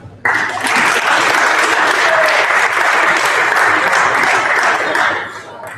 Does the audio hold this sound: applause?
yes